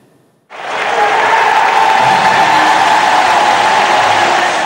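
A record crowd of about 93,000 at the Melbourne Cricket Ground roars and cheers at the 2015 Cricket World Cup final, a loud, dense, continuous stadium wash that swells in after a brief quiet start and holds steady throughout.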